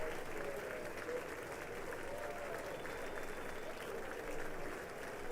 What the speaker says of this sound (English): Do you hear the roar of the crowd?